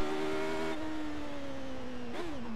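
A damaged race car in a racing video game at Long Beach drives on with a steady engine drone whose pitch slowly falls, then a brief rise and dip near the end, loud and close with no talking.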